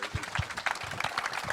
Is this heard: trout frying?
no